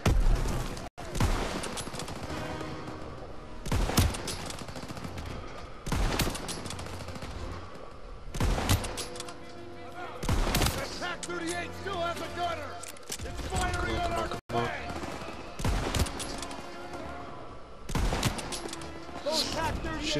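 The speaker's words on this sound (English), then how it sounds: "Everyone, open fire!" Repeated loud gunshots and machine-gun bursts in the Call of Duty WWII campaign during a jungle battle, evenly spaced blasts ringing close over a noisy backdrop with people talking.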